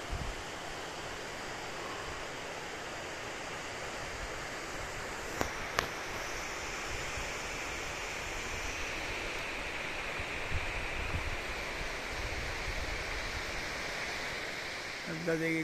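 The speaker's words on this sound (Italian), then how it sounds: "ecco la cascata nascosta." A hidden waterfall in the Infernaccio gorge pours with a steady, loud, broadband rush that stays constant throughout, with a few brief knocks nearby.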